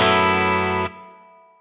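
An electric guitar chord rings through a Cali76 Stacked Compressor pedal into a Fender Deluxe Reverb amp, sustaining evenly with a thick, squashed tone before cutting off sharply and leaving a quiet decaying tail, with no talk.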